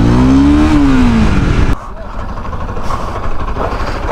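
A Bajaj RS200 motorcycle ridden hard in a drag race, its engine loud and close and revving upward, then dropping sharply at a gear change before pulling on under heavy wind rush.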